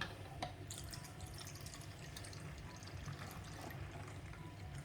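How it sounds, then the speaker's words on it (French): Room-temperature water pours softly into a container in a home kitchen, a faint continuous trickle with a few small splashes and drips, quiet and alone. "On commence donc par mettre 2 verres d'eau, eau à température ambiante."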